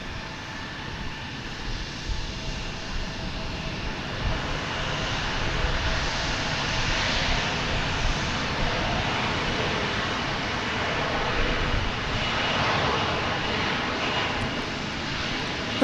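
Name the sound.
Airbus A320 jet arriving, flight from Milwaukee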